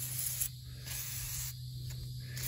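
WD-40 sprayed from an aerosol can onto a car wheel, heard as a few short close hissing bursts over steady background noise.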